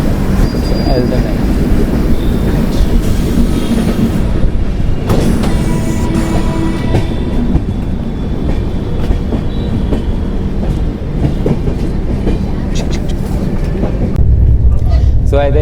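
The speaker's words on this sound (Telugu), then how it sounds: "మనం రాజధాని ఎక్స్ప్రెస్ ఎక్కి 22691 ట్రైన్ ఎక్కి 1 hour పైన అవుతుంది" Onboard the Rajdhani Express 22691 from KSR Bengaluru to Hazrat Nizamuddin, a loud continuous rumble of the running train with rhythmic wheel clacks and occasional squeals, voices faintly in the background.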